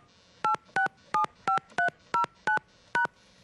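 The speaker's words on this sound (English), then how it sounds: "Please enter your PIN, then press the pound key." A phone keypad sends eight crisp, evenly spaced DTMF beeps as a PIN is keyed into a voicemail system, loud and clear with nothing else heard.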